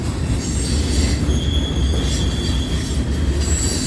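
A long freight train rolls past on the BNSF Transcon line in Fremont, Nebraska, its loud, steady wheel rumble close by and a thin metallic squeal riding over the top throughout.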